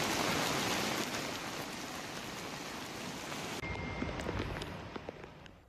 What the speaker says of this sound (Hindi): 24 घंटे में रिकॉर्ड बारिश हुई है।